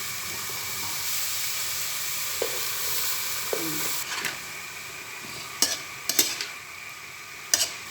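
Bitter gourd (ampalaya) and chicken fry in a pan with a quiet, steady sizzle and hiss, punctuated by a few sharp clinks and scrapes of utensils against the pan.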